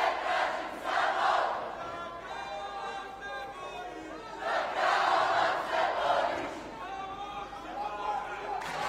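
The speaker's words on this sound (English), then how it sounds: "Great support coming from the crowd here for their man, Joksic." Crowd at a 2018 European Karate Championship final cheers and shouts in two swelling waves of noise. The crowd's roar is mixed with a commentator's voice, and the noise between the waves stays loud and busy.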